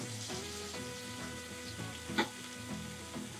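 Chicken fries in a pan for gravy sauce, a close, quiet, continuous sizzle and crackle with a brief louder pop partway through.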